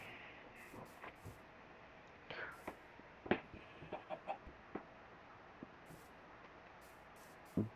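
A few soft clucks from a hen, synthetic and game-like, scattered over a quiet background with light clicks.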